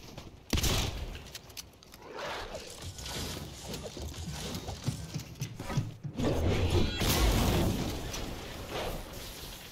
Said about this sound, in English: Didn't realize I had an SMG there.